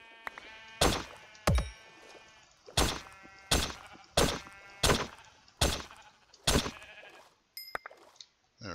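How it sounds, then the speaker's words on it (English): Repeated sheep bleats from a Minecraft-style video game, about seven calls in a steady rhythm, loud and close, each a short wavering cry with no talk over them. "I think there's enough sheep here."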